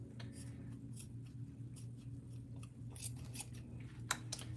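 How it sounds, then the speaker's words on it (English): Dull scissors that have been used on tape cut through fabric for a circle bag pattern, giving quick, irregular crisp snips over a steady low background hum. "I need to get my scissors sharpened."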